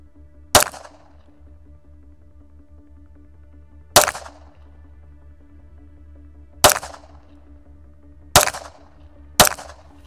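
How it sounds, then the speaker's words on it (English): Five shots from an Atlas EOS pistol fired at 15 yards, loud sharp reports spaced a few seconds apart with the last two closer together, over a low steady hum. "shot 5 rounds, and just those first 5 rounds feels so freaking good"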